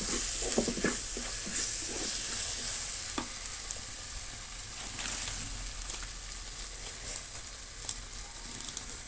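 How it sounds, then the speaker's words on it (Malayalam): Masala for chicken curry fries in a clay pot, a soft sizzle under repeated scraping and stirring strokes of a spoon, close and fairly quiet with no voices. "ഇനി ഇത് നന്നായിട്ട് മിക്സ് ചെയ്തിട്ട് ആ മസാലേൻ്റെ പച്ച മണം മാറുന്ന വരെ മിക്സ് ചെയ്ത് കൊടുക്കും."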